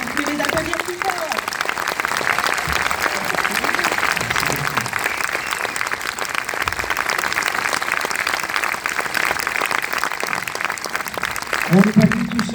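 Sustained crowd applause at a premiere of the film "Une année difficile", dense continuous clapping throughout with scattered voices and cheers poking through near the start and end.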